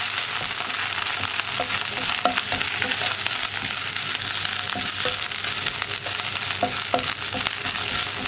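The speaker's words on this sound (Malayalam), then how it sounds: "ഇനി നമുക്കിതൊന്ന് നന്നായിട്ട് ഇളക്കി ഈ ജിഞ്ചർ ഗാർലിക് പേസ്റ്റ് ഒന്ന് കുക്കായി വരുന്നത് വരെ 1 മിനിറ്റ് ഒന്ന് ഇളക്കി കൊടുക്കാം." Onion with ginger garlic paste frying in a pan, a loud continuous hiss of sizzling oil with occasional spoon strokes and light scraping, close and steady throughout.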